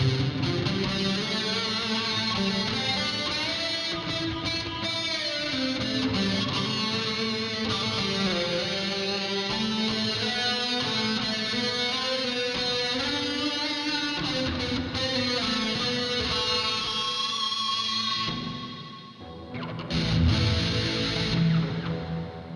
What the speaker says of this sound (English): let's turn on the distortion